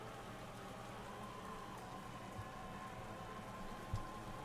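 Rain weather in the video game Pokemon Sword and Shield makes a faint, steady hiss of falling rain throughout, broken by two soft low thumps near the end.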